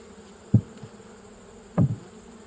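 Honey bees buzz around a hive in autumn as colonies are readied for winter, with two brief, close buzzing passes sweeping past over a soft background hum.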